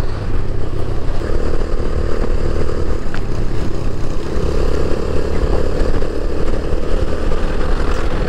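A convoy of many motorcycles rumbles past on a road in Balochistan, with overlapping engines droning loud and close and swelling slightly as bikes pass, steady throughout with no talk.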